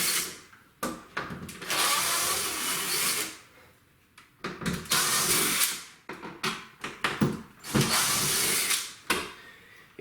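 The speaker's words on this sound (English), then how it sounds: "So now go ahead and unscrew all the screws that are exposed." A power drill whirs in repeated bursts as it backs screws out of a French door during glass replacement, with pauses and short handling clatters between runs.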